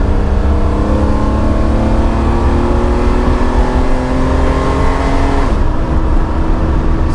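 Cheap Ferrari engine with little power after sitting unused for four months, revving loudly and close as it climbs through the gears, pitch rising steadily and then dropping sharply at a shift near the end.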